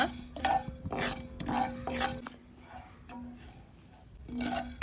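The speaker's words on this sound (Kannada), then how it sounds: "1 ಚಮಚ ಸೋಂಪು, 1 ಚಮಚ ಜೀರಿಗೆ, ಒಳ್ಳೆ ಘಮ ಬರುವವರೆಗೆ ರೋಸ್ಟ್ ಮಾಡುವ." Fennel seeds and cumin dry roasting in a pan, stirred with a utensil that scrapes and clinks against the metal in several short bursts over a faint background.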